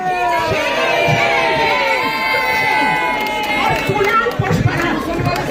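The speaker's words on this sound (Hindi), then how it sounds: "आप चिल्ला रहे हैं।" A crowd at a disrupted book discussion on a university campus shouting and chattering loudly and continuously, many voices overlapping with raised individual speakers cutting through the din.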